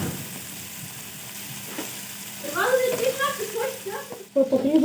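Butter sizzles in a pan of watermelon curry over a steady low hiss, with bubbling, popping tones rising in the second half, close and moderately loud.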